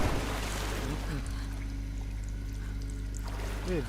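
A soft, steady rush of flowing water in the video game Tomb Raider on PlayStation 5 runs throughout, with faint tonal game sounds drifting over it; no one speaks.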